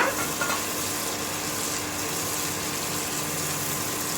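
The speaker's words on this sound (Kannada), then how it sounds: "ಇವಾಗ ಶುಂಠಿ ತಗೊಂಡಿದ್ವಲ್ಲ ಅದನ್ನು ಹಾಕಿ ಸ್ವಲ್ಪ ಫ್ರೈ ಮಾಡೋಣ" Ginger frying with tomato in a pan makes a loud, dense, continuous sizzle that holds steady without pause.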